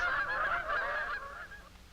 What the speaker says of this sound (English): we had the opportunity to time the flight of the Canada goose.